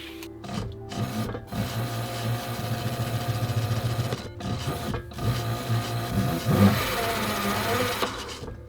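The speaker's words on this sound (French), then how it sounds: "il va falloir que je l'affine avec la machine à parer" A leather skiving machine thins a piece of very thick leather for a handbag, a steady mechanical whirring and grinding hum running throughout with a few brief pauses and rising slightly near the end.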